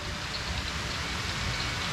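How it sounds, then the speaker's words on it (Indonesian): Steady rain pattering on the water surface of a tilapia fishing spot, a continuous dense hiss of drops with no voices. "tiba-tiba turun hujan. Nah, ini rintik-rintiknya bisa dilihat di permukaan air"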